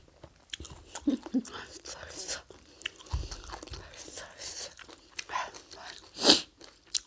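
Crunchy chewing and biting of a Thai raw beef salad with liver and bitter neem, close to the mouth, with irregular crisp bites and one loud crunch near the end, moderately loud against a quiet background.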